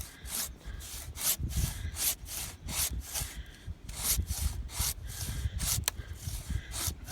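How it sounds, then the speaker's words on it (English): Handsaw cutting through a pear tree branch outdoors in a pasture, a steady rasping back-and-forth rhythm of wooden strokes, close and fairly loud, with brief pauses between bursts of sawing. "let's see if I can let this fall while I'm cutting it and recording"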